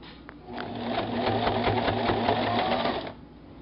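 A sewing machine stitches a hoodie seam through a thick joined clump of fabric under the armpit, a close, quiet, rapid mechanical whir that runs steadily for a few seconds and then stops.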